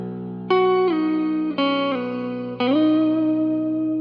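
Sustained guitar chords ring out through a JHS 3-Series Octave Reverb pedal, decay at noon and octave up, shimmering with an added octave layer, three strums each swelling and decaying smoothly.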